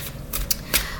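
Tarot deck shuffled close up in a quiet room, several quick papery riffling bursts standing out over a steady background hiss.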